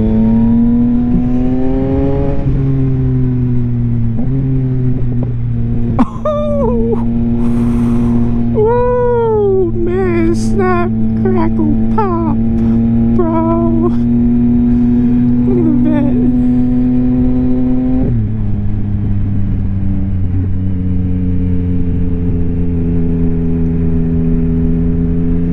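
A 2022 Yamaha XSR900 motorcycle fitted with a Kelpi Custom Moto shorty exhaust drones loudly and steadily while riding, its pitch shifting with throttle changes and a drop around 18 seconds, and a rider talks over it throughout.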